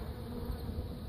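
Honeybees buzz steadily at a hive entrance fitted with a robbing screen of 1/8 inch wire mesh, a close, continuous droning hum with no talking.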